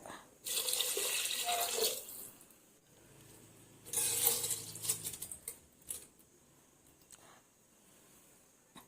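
Water is poured into rice for a vegetable biryani, two bursts of splashing and trickling pouring separated by quieter gaps, fairly faint and close.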